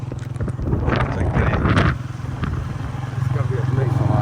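A motorcycle carries riders through rural Punjab. Its low engine drone and wind rumble fill the start and end, with a stretch of voices and buffeting in between.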